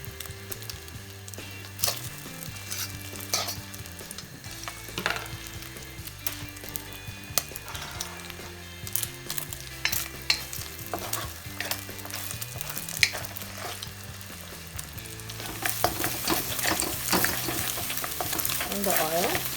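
An egg frying in oil on a lowered stove for shrimp and broccoli fried rice gives a steady close sizzle with repeated scraping and stirring knocks, growing brighter toward the end over background music.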